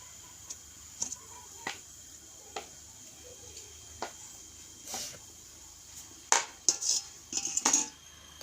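Metal lid set on a pot of steaming vegetable momos, a few sharp clanks and clatters, with a cluster of louder metallic knocks toward the end, fairly close and with no talking.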